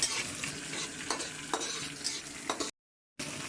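Garlic frying in a pan, a bright continuous sizzle broken by occasional scrapes and stirring taps, with a short silent dropout near the end.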